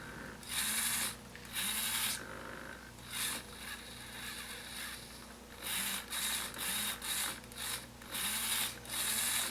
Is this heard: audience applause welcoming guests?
no